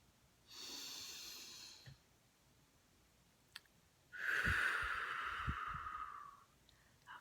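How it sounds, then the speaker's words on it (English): Two slow, deep breaths, each a long airy inhale or exhale lasting over a second, taken as a guided breathing exercise with no talking; the second breath is louder and has a soft whistling edge. "let's do 3 nice deep breaths together"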